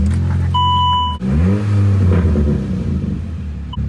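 A Saab car engine cranks and catches after electrical repairs, then settles into a loud, steady idle with a brief rev, preceded by a short electronic beep tone; no talking.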